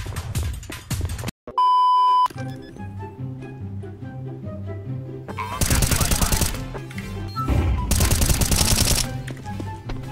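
Video game gunfire in a multiplayer shooter, sharp bursts of rapid shots in two loud clusters, preceded by a brief electronic beep tone, with game music and effects underneath.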